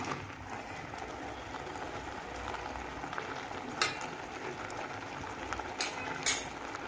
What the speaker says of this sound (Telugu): మూత పెట్టుకుని తోటకూర అయితే ఉడకబెట్టుకుంటున్నామండి.